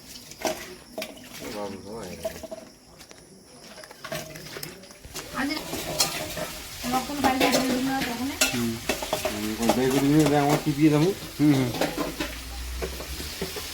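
Fish frying in a pan at home, a steady sizzle and occasional stirring running throughout, with people talking over the cooking sounds for much of the time.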